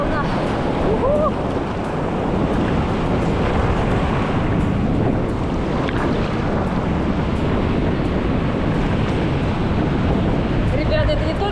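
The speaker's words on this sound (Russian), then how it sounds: "Волна." Surf at a Cancún beach in Mexico, a loud, continuous wash of breaking waves with strong wind buffeting the microphone, filling the whole stretch.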